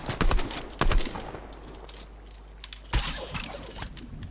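Harpoon gun shots in Fortnite crack out in sharp bursts, two close together early and another after a pause, over busy game noise.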